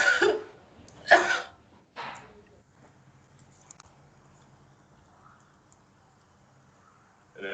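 A few rough coughs or throat-clearing bursts close by, three in quick succession at the start, then near quiet with faint background noise.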